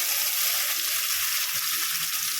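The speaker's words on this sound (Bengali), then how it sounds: "কড়াই তেল গরম করে দিয়ে দিলাম কালো জিরে। কালো জিরেটা হয়ে গেছে, এবার দিয়ে দেবো বেটে রাখা শিম দিয়ে মশলাটা।" Ground flat bean spice paste hits hot oil with black cumin in a kadai, giving a dense, steady, loud hiss of frying with no pauses.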